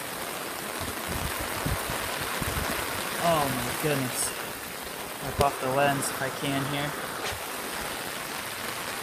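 Steady, dense hiss of torrential rain pouring down during a storm, with someone talking excitedly over it partway through.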